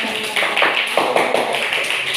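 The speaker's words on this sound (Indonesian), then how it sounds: "Kelompok 3 ada beri tepuk tangan untuk kelompok 3" Students in a primary-school teacher-training class clap for group 3. Brisk, fairly close hand-claps run steadily through the clip with a slightly rhythmic pattern.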